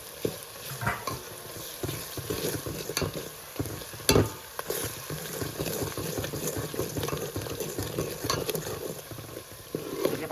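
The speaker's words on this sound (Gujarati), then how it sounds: "તો હવે આપણે બધું હલાવી દઈશું" A spoon stirs masala frying in a pan for a khaga fish curry, scraping and sizzling steadily up close with one sharp clack along the way, and no voices.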